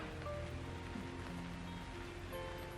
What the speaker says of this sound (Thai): ข้างนอกฝนก็ตกนะ